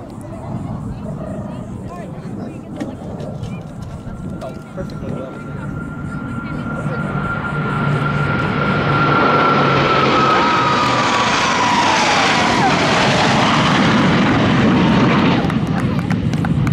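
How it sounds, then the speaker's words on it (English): Five Blue Angels jets in a line-abreast pass at a Pensacola NAS air show approach with a rising roar that swells to a loud, sustained jet rumble, while an announcer speaks over a murmuring crowd. "From your right now, ladies and gentlemen, the Blue Angels 5 airplane line abreast"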